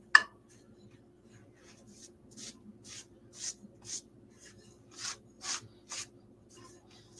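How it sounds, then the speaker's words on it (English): A brush sweeps sawdust off a wood carving: about ten soft, rhythmic swishing strokes, close and fairly quiet, each short burst separated by brief pauses, with a faint low hum underneath. "As I brush off all of the sawdust."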